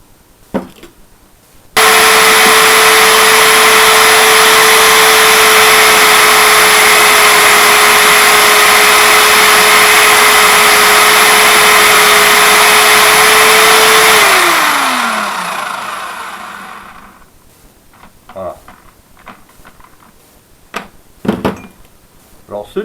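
A power tool fitted with a buffing disc polishes aluminium motorcycle or car parts, giving a loud steady high whine that runs for about twelve seconds, then winds down as the tool is switched off, followed by quiet handling knocks.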